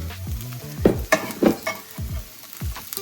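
Pork belly and potatoes sizzle in a hot pan while a utensil stirs and scrapes through them in several quick, close strokes over the steady frying crackle.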